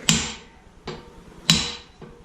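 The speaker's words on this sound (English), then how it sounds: "We decided to switch to a piece of brass and a bigger hammer" A bigger hammer strikes a brass drift twice, each a sharp ringing clang followed by a softer tap, close and evenly spaced.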